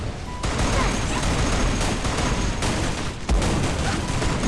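Dense gunfire rattles nonstop through a Free Fire match, with a heavy grenade boom standing out near the end, all loud and close with no pause.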